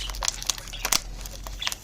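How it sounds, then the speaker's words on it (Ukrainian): Adhesive tape is ripped off the packaging of a newly unboxed houseplant, a close, loud run of crinkling, tearing rasps in quick uneven bursts. "от разом зі скотчем віддирається все"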